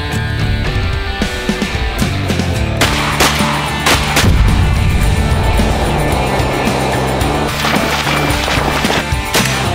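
Shotgun blasts ring out at a duck hunt, several sharp loud reports spaced unevenly over a dense, noisy outdoor background of rumbling and clatter.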